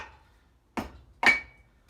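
A carved wooden hammer-insert mallet is tapped twice, giving two sharp, close wooden knocks about half a second apart in an otherwise quiet room.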